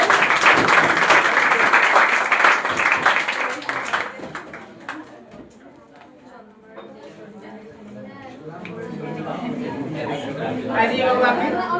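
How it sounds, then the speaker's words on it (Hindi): Applause at a Bihar coaching centre's talent award ceremony honouring Board toppers, with dense clapping for the first few seconds that thins into scattered claps under crowd chatter and talk, then picks up again near the end. "जोरदार तालियां इनके लिए।"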